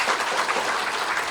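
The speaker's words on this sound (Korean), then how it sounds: "다시 한번 큰 박수 부탁드리겠습니다." Applause from an audience at a Buddhist dharma assembly, a dense, steady patter of many clapping hands that fills the short moment without a break.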